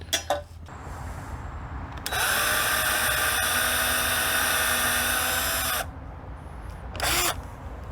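A power drill drilling pilot holes whirs steadily for several seconds, a sustained high-pitched grinding drone, with brief clicks and a short burst of drilling after it stops.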